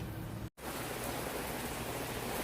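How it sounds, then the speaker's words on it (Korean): Heavy rain pouring down at night, a dense, steady hiss that fills the whole clip, broken only by a brief dropout near the start, with no voices. "비가 엄청 내리고 있어요."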